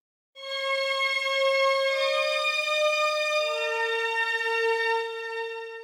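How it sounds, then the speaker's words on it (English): Strings sample from an FL Studio default pack, used in a song recreation: long held bowed notes that enter cleanly, shift pitch a couple of times and sustain evenly alone. "And we have this cool strings sample that I'm pretty sure is from an emulator,"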